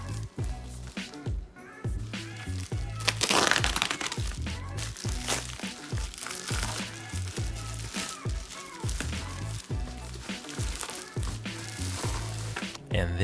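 The cardboard and plastic box of a Redragon K599 tenkeyless keyboard is handled up close, with repeated crinkling, crunching and tapping as the package is turned and gripped. Faint talk runs underneath.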